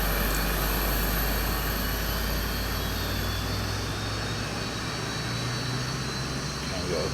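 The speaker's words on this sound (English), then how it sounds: "we've got a good start on the left engine" The left engine of a SEPECAT Jaguar A starts up in Microsoft Flight Simulator with a steady jet roar and a high turbine whine, plus a low hum that rises partway through. Someone talks over it.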